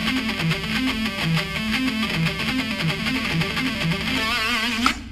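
Distorted electric guitar ripping through a fast, repeating triplet pentatonic rock lick, a continuous dense stream of notes ending in a brief sustained bend.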